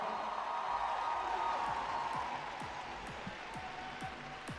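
Arena crowd applauding for the winning pairs figure skaters at the Grand Prix Final, a steady broad wash of clapping that eases slightly toward the end, with faint commentary-like voices underneath.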